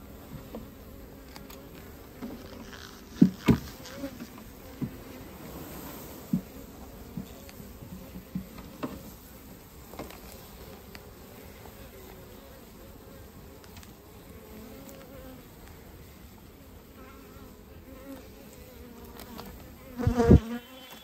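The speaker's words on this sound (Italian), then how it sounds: "adesso andiamo a dare una bagnata per contenere le api" Honeybees drone steadily from an open queen-rearing starter hive in spring, a dense, continuous buzz close by, broken by a few sharp knocks and a louder clatter near the end.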